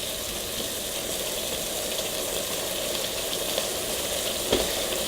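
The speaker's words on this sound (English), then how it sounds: "I'm going to stir it all up." Beef stroganoff sizzles steadily in a pan while it is stirred, a constant close frying hiss with a few brief scraping clicks near the end and no talk.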